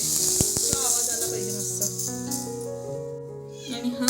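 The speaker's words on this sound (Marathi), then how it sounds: "आता हे असंच गरमागरम तेल आता हे तेल आपण कांद्यावर टाकू" Hot oil with asafoetida poured over onions for onion chutney gives a soft, hissing sizzle with a few sharp crackles near the start, faint and steady, while a person talks over it.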